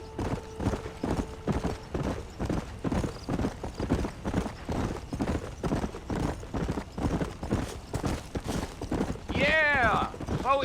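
Horse hooves gallop in a steady, rapid clip-clop rhythm from a Red Dead Redemption game ride, with a voice talking over them and a short whinny near the end.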